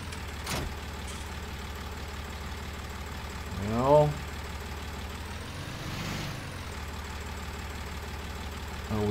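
A tractor in Farming Simulator 19 hauls a trailer loaded with logs, its engine droning steadily with a brief rising rev in the middle and a low rumble throughout.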